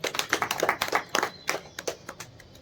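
An audience claps for a yoga master's wife at a meditation gathering, brisk uneven hand claps from a small group heard close, lasting a couple of seconds.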